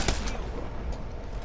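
Rapid automatic hip fire from a Rampage light machine gun in a shooter game, a dense, loud, continuous burst of shots with no pauses across the whole moment.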